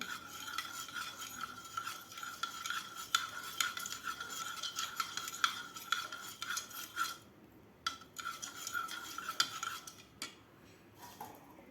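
Sugar and black salt stirred into curd for boondi raita, a spoon scraping and clinking steadily against the bowl in quick repeated strokes, with a few brief pauses near the end and no voices.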